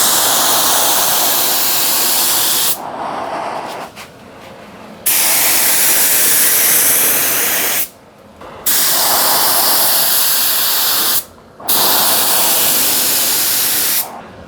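Loud, steady hiss of Cerakote coating sprayed onto automotive parts such as wheels or a skid plate in a makeshift spray booth, coming in several long continuous bursts separated by brief pauses.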